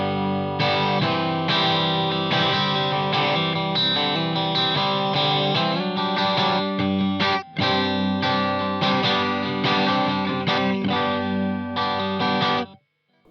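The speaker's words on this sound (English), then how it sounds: "the Silk Drive adds a really nice kind of pushed deluxe reverb type overdrive to that sound" An electric guitar plays through a Vox Valvenergy Silk Drive overdrive pedal, giving a pushed Deluxe Reverb style crunch. Loud sustained strummed chords ring out with a brief gap midway and a short fade at the end.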